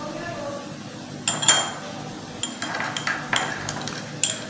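A spoon stirring lemon skin paste in a bowl, a series of light clinks and scrapes in irregular bursts over a quiet background.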